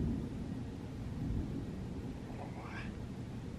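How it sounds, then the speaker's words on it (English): A thunderstorm rumbles low and distant, a soft continuous roll of thunder with a slight swell near the start, quiet and steady, with a brief faint rising whine near the end. "Nice storm."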